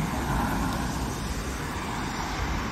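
Busy street traffic in Sydney, Australia, a steady wash of passing cars and road noise heard from the roadside, fairly faint and continuous with no clear individual vehicles standing out; no talking.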